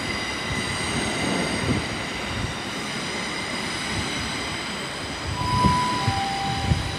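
A Class 444 electric train departs Bournemouth station, a steady rumbling drone with a high electric whine, heard from the platform with a brief squeal partway through.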